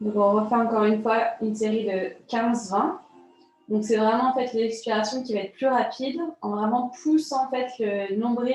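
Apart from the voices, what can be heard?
No everyday noise stands out behind the speech.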